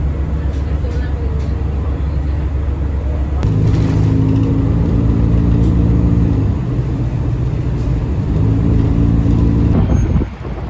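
A city bus's engine drones loudly from inside the vehicle, and the tone shifts as it changes gear and speed, with some rattles toward the end.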